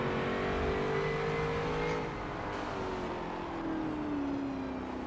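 Race car engine in a racing video game, driving in the rain and drifting, a steady loud drone with shifting pitch as revs rise and fall, over a constant hiss of rain and spray.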